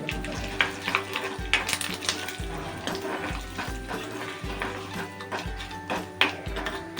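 Spices with curry leaves and half a spoon of turmeric crackle in hot oil for tamarind chutney, a continuous close sizzle broken by repeated scraping stirs and a low rhythmic hum beneath.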